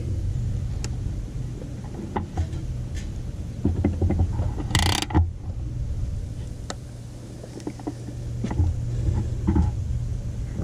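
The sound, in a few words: ratchet tightening bolts on Dodge Charger upper control arm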